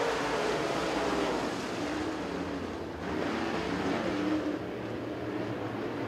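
Super late model race cars roaring around Crossville Speedway in a steady, dense wash of engine noise, heard from a distance with no clear individual pass-bys.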